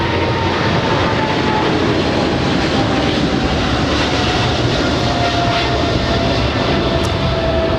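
Boeing 777 freighter at LAX, a loud, continuous broadband jet roar close by, with a faint whining tone running beneath it and no speech over the noise.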